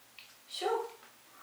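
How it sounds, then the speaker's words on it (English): A pet dog gives a brief whimpering whine, loud and close, in a quiet indoor room, lasting under a second. "that was my dog"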